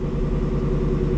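A car engine idles steadily while warming up with its exhaust set to quiet mode, giving a low, even rumble with no revving.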